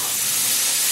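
A pressure cooker blasting out steam while cooking pork spare rib adobo, a loud, constant, close hiss filling the whole moment.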